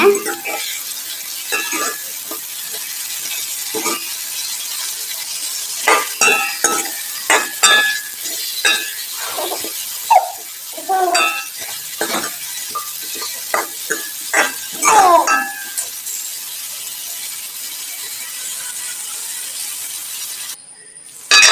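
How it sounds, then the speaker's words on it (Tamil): Chopped vegetables and soya meat sauté in a pan for a coconut-milk soya meat curry, with repeated scraping stir strokes and light clinks over a steady sizzle, close and fairly loud, easing off near the end. "ஒருக்கா மிக்ஸ் பண்ணிட்டு நல்லா வதங்க விடுங்க"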